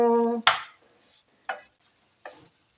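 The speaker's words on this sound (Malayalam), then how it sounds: "നമ്മൾ നന്നായി ഇതിളക്കട്ടെ കേട്ടോ" Leaf stir-fry (pathila thoran) is stirred in a pan, making three short, separate scraping strokes. A brief tonal sound is heard first, and it is quiet between the strokes.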